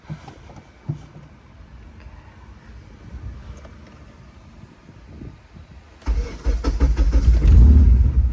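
A car engine with a problem cranks and catches after a quiet stretch of faint handling noises, then settles into a loud, close, rumbling idle that swells and keeps running to the end.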